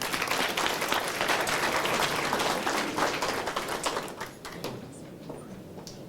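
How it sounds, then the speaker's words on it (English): Community band concert audience applauding the band, a thick wash of many hands clapping that holds strong, then thins and fades toward the end. "So a round of applause for them."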